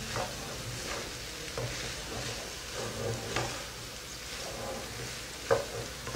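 Capsicum, tomato and cabbage are stirred in a hot frying pan, with a steady sizzle and repeated scraping strokes of the spatula, closer knocks near the end.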